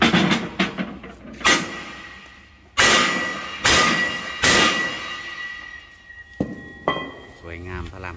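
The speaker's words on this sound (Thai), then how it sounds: "ก็จะตีอัดให้มันแน่นนะครับ" A hammer strikes metal repeatedly to pack the center hole of a truck leaf spring tight, giving sharp ringing clangs in an irregular rhythm, close and loud with decaying metallic tails, a few quick taps early then heavier spaced blows.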